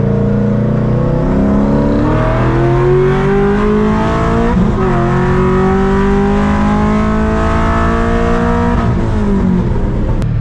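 A manual Ford Mustang SVT GT engine revs hard and loud, its pitch climbing and falling in repeated sweeps as it is pushed through the range, with no talk over it.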